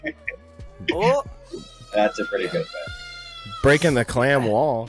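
A cat meows in several drawn-out, wavering cries, loud and close, some of them overlapping with people chatting and laughing in a room.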